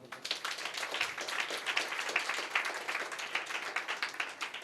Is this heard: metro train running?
no